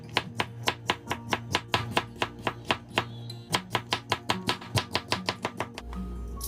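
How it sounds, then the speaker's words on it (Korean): Knife cutting potato into thin julienne strips on a board, a quick, even run of close, crisp chops, about twenty-five strokes with one brief pause, and no talk. "채를 썰어 보겠습니다."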